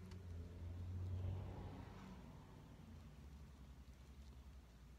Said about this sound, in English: Notice how quiet my car is.